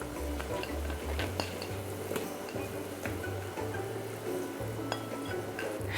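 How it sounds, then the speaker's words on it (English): Tomatoes, lady fingers and aubergine tumble into a cooking pot of fish asam curry, with scattered light clinks and scrapes over a steady low simmering hum. "Now I'm going to add the vegetables into the pot."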